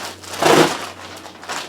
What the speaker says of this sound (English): It's a plastic bag, unfortunately.